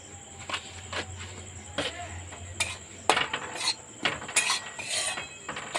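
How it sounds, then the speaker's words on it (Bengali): Sattu paratha dough ingredients get stirred and mixed in a bowl, heard as a series of close, irregular scraping and tapping knocks against a faint steady background. "এইভাবে নেড়ে চেড়ে আমি এটা সব কিছু একসাথে মিশিয়ে নিলাম"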